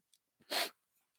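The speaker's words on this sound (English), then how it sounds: "I'm going to sneeze now." A single loud, violent human sneeze bursts out after a soft inhale, with a few faint breaths and sniffs on either side.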